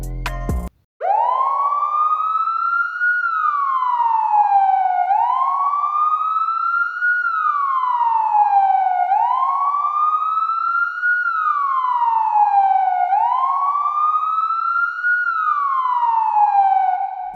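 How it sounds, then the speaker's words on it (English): A loud police siren wails in a repeating rising-and-falling cycle, close and continuous, after a brief burst of noise at the start. "The sirens eventually faded into the night"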